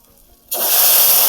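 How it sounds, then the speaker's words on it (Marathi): Masala tempering for a brinjal curry bursts into a loud, close hiss that starts suddenly after a quiet moment and keeps sizzling steadily. "मस्त फुडणी बसली बघा फुडणीचा असा तडका झाल्यावरच फुडणी बसली म्हणायचं"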